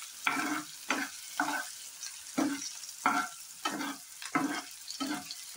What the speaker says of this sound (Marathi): पूर्ण हिरवी मिरची व्यवस्थित परतून घ्यायची याच्यामध्ये